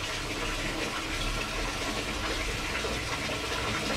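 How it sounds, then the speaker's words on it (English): A dog gets washed under a running shower, water pouring in a steady, broadband rush that stays loud and even throughout with no talking. "You get to take shower."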